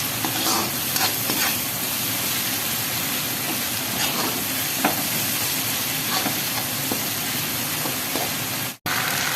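Tomatoes frying in a pan until soft, a continuous loud sizzle with frequent stirring scrapes and clinks, close by and without speech.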